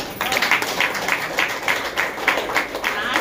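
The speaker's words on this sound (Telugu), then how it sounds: "నాకేం చప్పట్లు కొడతారు." Steady applause from an audience at a testimony gathering, a dense run of rapid claps for about three seconds, moderately loud and continuous.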